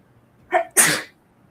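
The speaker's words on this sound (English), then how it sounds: "I'm going to sneeze." A single human sneeze, a short sharp intake followed by a loud explosive burst, close and clear with no talking around it.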